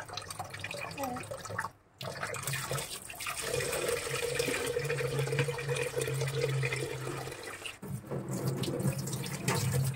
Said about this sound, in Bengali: মাছ অলরেডি গান্দা হয়ে গেছে বুঝলেন, কিন্তু আমি এটাকে এইভাবে ধুইলে একদম পরিষ্কার করে নেবো